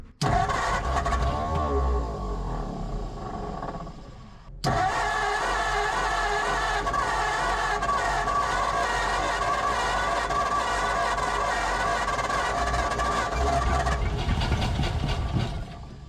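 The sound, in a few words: 1947 Ford flathead V8 engine trying to start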